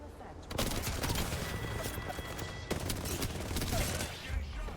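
Gunfire rattles through a round of the video game Apex Legends, rapid automatic bursts and sharp shots layered over a dense battle din, with game voice lines mixed in.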